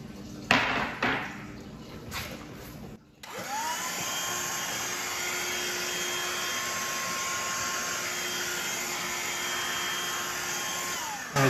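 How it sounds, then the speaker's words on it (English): A small vacuum starts after a few knocks and handling noises, then runs with a steady, loud whine while sucking water inside a tortoise egg incubator. "this vacuum is too thin, it's not gonna work out"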